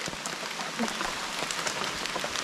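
Steady, soft rain falls in a mountain forest, a dense hiss of drops pattering on leaves and other surfaces that continues evenly throughout, with no talking.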